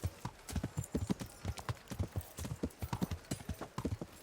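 Horse hooves clip-clop in a fast, steady galloping rhythm in the medieval video game Kingdom Come: Deliverance, close and continuous for several seconds.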